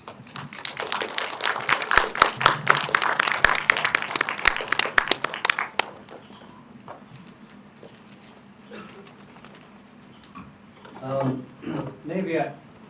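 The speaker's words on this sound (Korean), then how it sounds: "자, 박수를 좀 맞아주시죠." An audience claps to welcome a guest at a film screening event, a dense burst of applause for about six seconds that fades out, followed by faint room noise and a person speaking.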